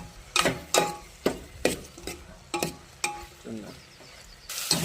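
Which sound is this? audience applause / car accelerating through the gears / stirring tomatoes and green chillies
stirring tomatoes and green chillies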